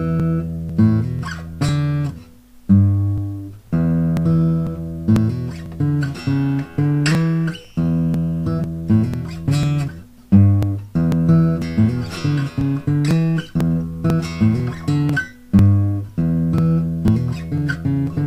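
A blues riff is picked on guitar alone, distinct plucked notes and short chord stabs in a loping repeated pattern with brief gaps between phrases.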